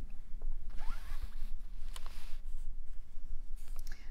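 Close, scratchy zipping of a plastic zip bag holding fabric scraps and fusible web, several short pulls and rustles over a few seconds, with no talking.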